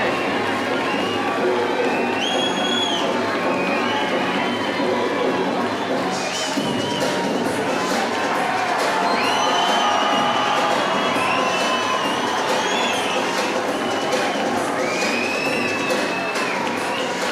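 A crowd roars and cheers inside the arena at a WKA pro kickboxing world title fight, a dense sustained din with shrill whistles rising above it; a commentator talks underneath.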